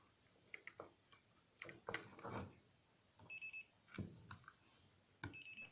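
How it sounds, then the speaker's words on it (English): A steady high-pitched electronic beep from a glued-down battery alarm buzzer sounds briefly, twice, amid faint scattered clicks and handling noises. "Glued buzzer speakers to get more comfortable beeping sound level."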